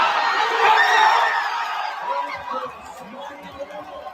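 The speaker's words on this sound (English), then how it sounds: "The crowd cheers. The crowd celebrates." Football stadium crowd roaring after a Marcus Mariota touchdown in a Washington Commanders win over the Las Vegas Raiders, a dense wash of cheers swelling loud early then easing to a steady, lower murmur.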